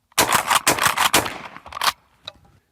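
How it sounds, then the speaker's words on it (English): A Mossberg Maverick 88 pump shotgun fires in a rapid run of sharp, loud blasts and their echoes, followed after a pause by one faint trailing knock. "it's not the most comfortable pump shotgun to shoot"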